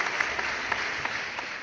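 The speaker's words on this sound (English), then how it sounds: "Ladies and gentlemen, a warm round of applause as Chen." Audience applause welcoming Huawei India CEO Jay Chen onto the stage at a mobile industry conclave, a steady faint wash of many hands clapping with scattered sharper claps, no voices.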